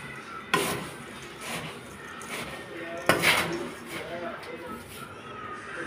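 A spoon mixing food in a pot, giving scraping strokes with a couple of sharp metallic clanks against the rim, close by, while a person talks over it.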